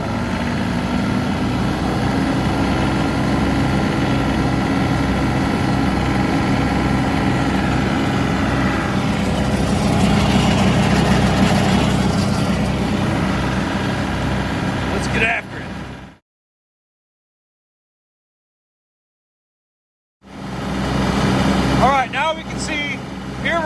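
A John Deere 2038R compact tractor runs while bush hogging tall overgrowth on a hill, its engine a steady low drone with talk over it. The sound cuts out to silence for several seconds and then resumes.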